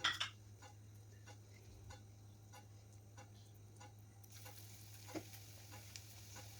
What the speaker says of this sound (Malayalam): ഇത് കോരി മാറ്റിയതിന് ശേഷം അടുത്തതൊന്നിട്ട് ഫ്രൈ ചെയ്തെടുക്കാം